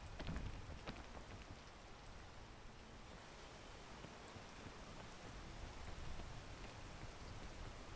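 Rain falls steadily as an even, soft hiss with a few scattered drop taps. No voices break the continuous, fairly faint wash.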